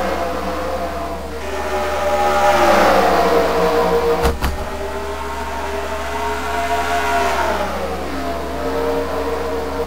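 Race cars in a wild card round of an INORL tournament rev and accelerate hard off the green flag, their engine notes swelling and rising in pitch as the pack passes close by, with a brief sharp crack midway.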